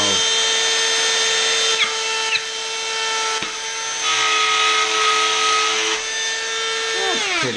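Makita DCO180Z cordless drywall cutout tool spinning at high speed as it cuts through a test material, a steady high whine with slight dips in pitch as it bites, close and loud throughout.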